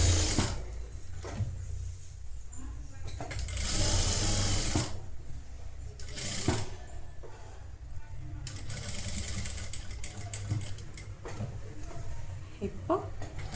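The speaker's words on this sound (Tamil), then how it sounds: "இந்த மாதிரி பாக்ஸ் மாதிரி ஸ்டிச் பண்ணிக்கோங்க." A sewing machine stitches a netted blouse, its rapid mechanical whirring coming in bursts of varying length, close by, while a person talks over it.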